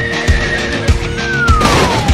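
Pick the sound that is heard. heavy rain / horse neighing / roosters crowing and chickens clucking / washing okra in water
horse neighing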